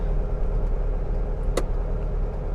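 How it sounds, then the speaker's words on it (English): A 1967 VW Karmann Ghia's engine rumbles low and steady as the car downshifts and slows, with one short sharp click breaking through partway along. "I'm just gonna downshift here a little bit, if I can. Doesn't really want to downshift too good. I'm gonna slow down a little bit."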